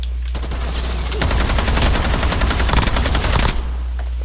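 Rapid automatic gunfire in a video game, a dense close burst of shots rattling for a couple of seconds between quieter background ambience.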